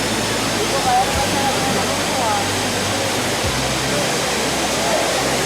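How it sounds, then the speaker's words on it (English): Kempty Falls, a Himalayan waterfall, roars as a dense, steady wash of falling water, loud and constant, with a narrator's voice under it at times. "This quicksilver cascade of water is popular with visitors"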